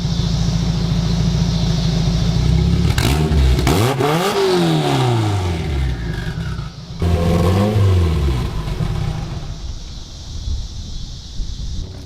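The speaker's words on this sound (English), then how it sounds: "one of our cars is running and outside of the garage" A turbocharged K24 engine in a Toyota MR2 runs and revs outdoors, with steady idle then rising and falling revs sweeping up and down twice, mixed with wind noise on the microphone.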